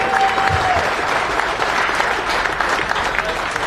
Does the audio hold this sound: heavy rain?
no